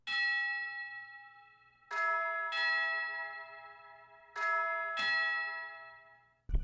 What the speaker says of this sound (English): for the tubular bells, you can do something very simple like this right here